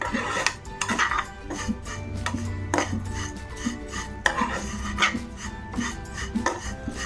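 Vermicelli (semiya) fries in ghee in a pan while being stirred, giving repeated metallic scrapes and clinks of utensil against the pan over a faint sizzle, with no talking.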